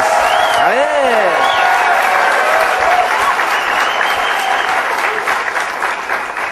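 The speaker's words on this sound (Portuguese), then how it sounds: "So a big round of applause." A seminar audience at a business-building talk by a Brazilian diamond manager claps in a loud, dense, sustained round of applause, with a voice briefly whooping early on, the clapping tapering slightly toward the end.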